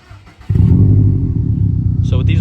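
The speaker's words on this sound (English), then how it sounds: "So let's get a little startup." A 2021 Subaru WRX STI with a muffler delete cranks and fires up abruptly after a quiet moment, settling into a loud, raspy, burbling idle close by, with a brief voice near the end.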